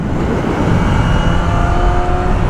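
A BMW M1000R motorcycle accelerates hard in fourth gear through a long sweeping bend. The engine makes a loud, close, continuous roar that rises in pitch, with heavy wind rush behind it.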